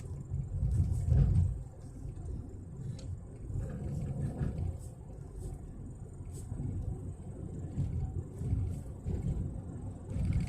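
A car on a road at night: a low, steady engine rumble with a louder swell near the start as it passes, then a continuing soft drone of traffic, moderately distant.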